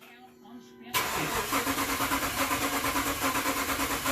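A 2014 Dodge Charger 5.7L V8 in poor running condition cranks and catches, then holds a loud, rhythmic, chugging idle close by, with a voice briefly heard over it.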